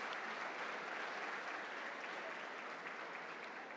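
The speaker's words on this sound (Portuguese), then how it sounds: "Uma salva de palmas para essas duas gerações." Faint, steady applause from a church congregation, a continuous wash of clapping heard at a distance with no pause.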